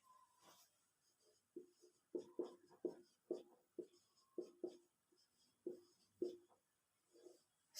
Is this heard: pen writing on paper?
yes